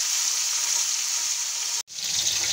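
Fish heads frying in hot oil in a home kitchen, a loud, steady sizzle that cuts out for an instant and then surges back.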